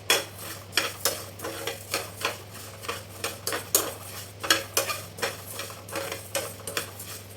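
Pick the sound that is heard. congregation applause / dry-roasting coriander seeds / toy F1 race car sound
dry-roasting coriander seeds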